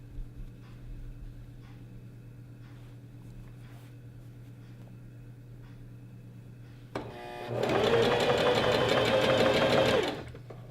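A sewing machine runs a rolled hem along the edge of a knife-pleated maxi skirt, one steady burst of fast stitching lasting about three seconds after a quiet stretch of faint handling.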